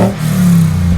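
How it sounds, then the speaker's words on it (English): A restored 1971 Ford Bronco with a third-generation 5-liter Coyote V8 revs through its exhaust in one brief, loud, deep burst that swells and holds. "We'll put an exhaust clip here for you guys so you can take a listen."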